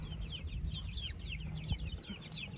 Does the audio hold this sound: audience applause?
no